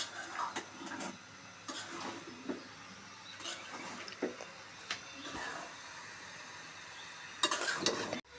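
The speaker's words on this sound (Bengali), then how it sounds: "ম্যাগি মশলা দিয়েছি এখন এটা ভালোভাবে মিশিয়ে নিতে হবে" Pasta being mixed with Maggi masala in a home kitchen pan, heard as intermittent scraping and clinking strokes of a utensil with a soft sizzle underneath, fairly quiet and irregular.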